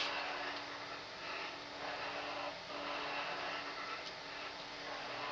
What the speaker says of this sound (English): That noise you're hearing in the background is the 3D printers.